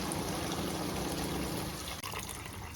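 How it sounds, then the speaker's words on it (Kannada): Water trickles and splashes steadily into a kadai, about a spoonful poured for vegetable Maggi, a continuous liquid pour with a brief break near the end. "1 ಚಮಚಷ್ಟು ನೀರು ಹಾಕ್ಕೋಬೇಕು."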